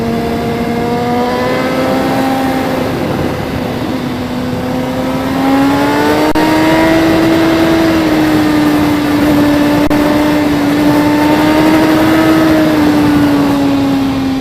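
A 2017 Suzuki GSX-R1000R with a VVT engine accelerates in third gear, its loud, close engine tone rising steadily in pitch and holding strong, with no talk.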